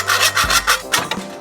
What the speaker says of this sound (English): I'm just gonna finish it out with just a hand hacksaw here